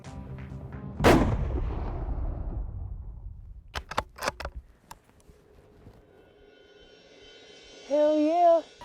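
A single loud rifle shot cracks out while deer hunting, with a long echoing rumble trailing off, followed by some rustling clicks and a brief tonal whistle near the end.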